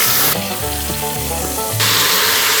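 Ground beef and diced onion hit a hot Instant Pot and fry with a loud, steady sizzle and crackle, swelling as the meat goes in and continuing alone without talk.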